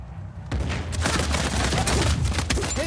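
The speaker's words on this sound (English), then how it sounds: "He's shooting at somebody." Gunfire in an Uncharted 4 multiplayer match, a dense burst of rapid shots and booms that starts after a brief lull and keeps going, loud and close.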